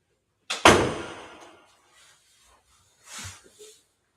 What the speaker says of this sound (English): I'm going to shut the door